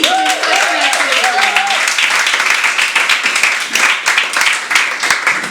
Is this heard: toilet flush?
no